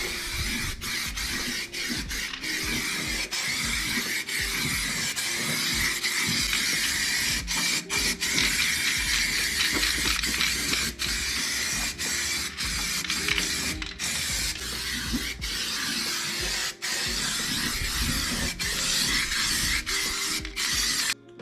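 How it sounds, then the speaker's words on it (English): A steady hiss of underbody coating spray runs almost continuously and close by on an LS1-swapped Nissan S13 Silvia, broken by brief clicks and mechanical rattles, with no talking. "So just gonna give this a quick spray"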